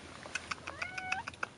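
A cat meows several times in quick succession, with rising and falling cries that are fairly close and clear, and no talking over it.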